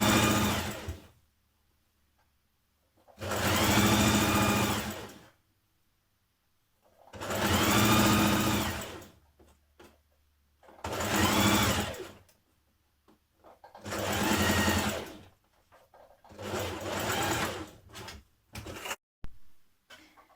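A sewing machine stitches the side seams of a Simplicity 8602 top in repeated runs of one to two seconds, each a loud steady whir separated by brief quiet gaps, ending in a flurry of short stop-start bursts.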